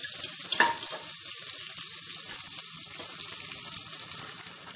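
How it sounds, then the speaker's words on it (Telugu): Large-cut onion pieces frying in a pan while cooking fenugreek dal, giving a steady close hiss of sizzling oil with a brief sharper crackle near the start. "ఉల్లిపాయ ముక్కలు ఇలా కొంచెం పెద్ద ముక్కలుగా కట్ చేసుకోండి అవి కూడా వేసేద్దాము వీటిని కూడా కాసేపు ఫ్రై చేసుకుందామండి"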